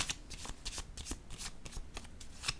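Tarot cards shuffled and laid down on a table, a quick run of crisp riffling snaps and soft slaps, close and alone.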